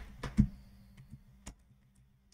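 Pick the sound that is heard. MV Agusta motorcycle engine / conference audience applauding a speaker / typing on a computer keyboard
typing on a computer keyboard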